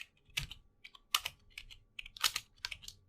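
Keys on a computer keyboard clack in short uneven bursts, close and fairly quiet, with brief pauses between clusters of strokes.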